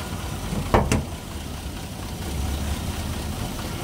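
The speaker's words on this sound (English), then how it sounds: "Engine misfire, man, yeah?" A 2007 Toyota Yaris engine idles with a misfire, a steady low rumble interrupted near the start by a couple of sharp knock-like bursts before settling back into an uneven drone.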